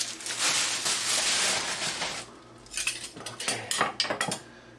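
Vintage 1958 Sears Maid of Honor kitchen spoons with Bakelite handles being handled, producing a dense metallic rattle followed by several distinct clinks and taps up close.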